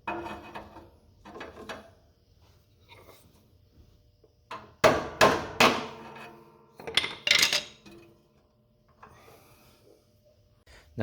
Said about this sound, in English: Now we can go ahead and pop those bushings out.